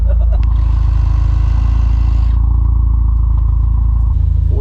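A Losi 8ight nitro truggy engine running rich, a loud, steady buzzing drone that continues nearly unchanged, with a brief shift in tone near the end.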